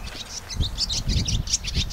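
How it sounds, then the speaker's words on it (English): Birds chirp and sing outdoors at a garden allotment, with bright, quick, overlapping calls close by over a soft, low background rumble during a short stretch. "birds have finished making a noise."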